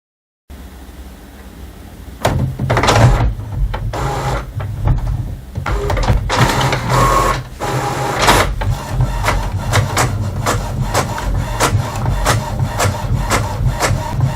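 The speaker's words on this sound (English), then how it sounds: "So this is the first printout from your HP OfficeJet Pro" An HP OfficeJet Pro inkjet printer runs its first page, starting with a short whir, then repeated mechanical rubbing and clacking as the carriage shuttles and paper feeds, close and steady with no voices.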